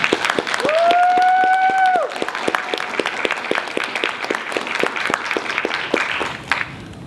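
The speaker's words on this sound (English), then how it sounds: "Please give the honoree and his family a round of applause." A crowd at a US Army retirement ceremony for a sergeant first class and his family gives loose, scattered applause, with individual claps distinct and a brief high whistling tone near the start.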